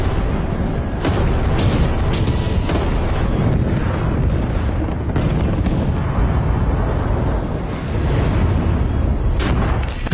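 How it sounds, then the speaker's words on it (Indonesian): Deep rumbling booms of German artillery bombarding Soviet front lines in World War II roll in repeatedly, overlapping into a continuous heavy barrage with sharp cracks between the blasts. "dari kejauhan, pasukan artileri Jerman mulai melakukan penyerangan bertubi-tubi"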